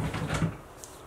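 A wooden drawer or cupboard door closes with a short, soft knock close by in a room, followed by faint rustling and no voices.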